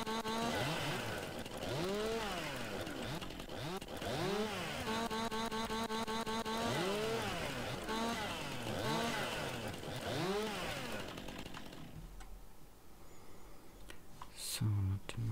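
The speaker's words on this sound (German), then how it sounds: "ich entaste jetzt hier einfach mal und säge ein bisschen." A chainsaw in the Farming Simulator 19 video game cuts branches, its engine revving up and down in repeated rising and falling sweeps, loud and continuous before fading near the end.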